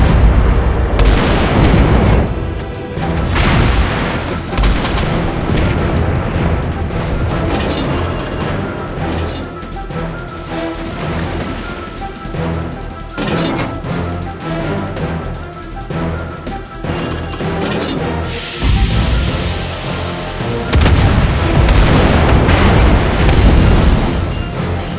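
Destroyer guns firing in World of Warships Blitz, the Tier 8 Amatsukaze, with loud repeated booms and blasts continuing throughout over a dense, busy mix of game sound.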